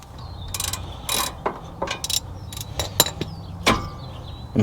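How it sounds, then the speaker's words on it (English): Rear brake caliper bolts on a Nissan 350Z being loosened with a ratchet, a series of short sharp clicking bursts and metallic clacks at irregular intervals, close up in a quiet garage. "For our rear caliper, we're just gonna loosen these bolts up"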